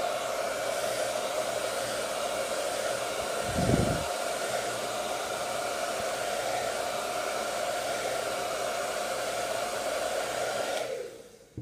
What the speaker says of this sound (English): Notice I'm never holding the blow dryer in the same spot at once.